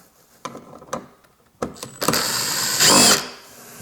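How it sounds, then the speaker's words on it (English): Close whirring bursts of an electric screwdriver backing Phillips head screws out of a Ford Mondeo front door panel, a few short clicks followed by a sustained high-pitched spin lasting about a second. "Here are those 2 Phillips head screws. When I install my screwdriver,"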